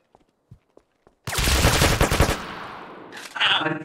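A few faint ticks and taps give way to a sudden loud burst of rapid gunfire that rattles on for over a second, fading into echoing tails before a second sharp burst near the end.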